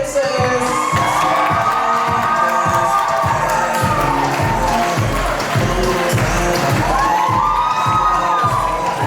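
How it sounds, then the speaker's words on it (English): A crowd cheers, whoops and shouts loudly at a live event as couples are introduced, a dense continuous roar with rhythmic stomping or clapping beats underneath throughout. "a nice big round of applause for Ali Dracopoulos and Evan Mikalixis."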